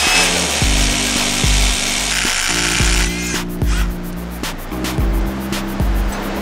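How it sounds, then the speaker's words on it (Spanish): A power drill bores holes into solid rock for climbing bolts, loud and close, grinding in steady bursts with brief pauses and sharp knocks of the bit against stone. "Con un taladro como este."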